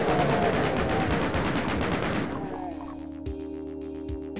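Doom chain gun firing in rapid, dense automatic bursts for about two seconds, loud and continuous, then cutting off into quieter game sounds with a few distant thuds.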